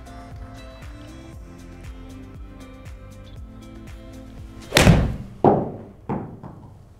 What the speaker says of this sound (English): I'm going to attack this with the 46 degree pitching wedge with 145 yards left in.